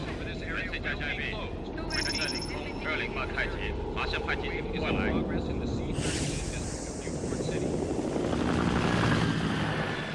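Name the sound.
police helicopters flying over city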